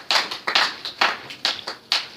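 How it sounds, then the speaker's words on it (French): Applause in a church comes as a series of sharp, fairly close claps, about eight of them at an uneven rhythm, with no voices over it. "Nous acclamons très fort pour la parole du Seigneur."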